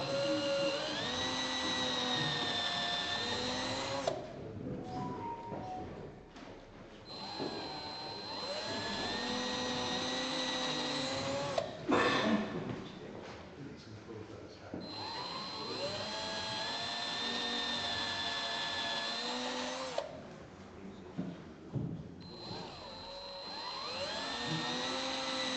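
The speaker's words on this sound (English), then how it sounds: "try and drill these as straight as you can." A high-pitched power drill whines steadily, pausing and restarting a few times as it bores, loud and close with no talking.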